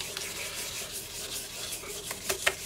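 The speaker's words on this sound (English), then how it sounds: "Bringing up a bit of a polish with the 2000 grit." Light abrasive rubbing of 2000 grit paper polishing the finish of a 1970 Japanese Epiphone FR100 acoustic guitar with mahogany back, sides and neck and a spruce top, a soft, close, even scrubbing with a few brief scrapes.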